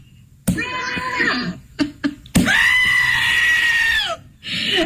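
Goat bleat sound effect from the Slap Mac laptop app, a loud, screaming bleat repeated in several bursts, one long drawn-out cry in the middle, with no talking over it.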